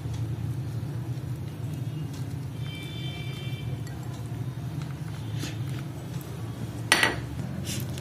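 A spoon stirs a milky sharbat flavoured with a few drops of essence in a glass, giving sparse light clinks over a low steady background hum, with one sharper ring near the end.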